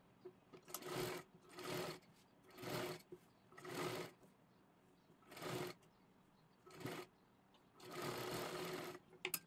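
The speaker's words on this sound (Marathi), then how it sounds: "हे पहा आता इथून बरोबर असं पकडून गोल आकारामध्ये शिलाई करून घ्यायची आहे." A sewing machine stitching a round kurti neckline runs in short bursts, about seven separate whirring runs with pauses between, close and fairly quiet, the last run longest.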